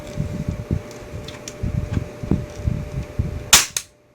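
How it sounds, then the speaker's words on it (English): A single sharp snap of a Bug-A-Salt salt gun with its safety mechanism disabled, fired near the end after a stretch of quiet fan-like hum and soft handling clicks. "That allows the gun to fire."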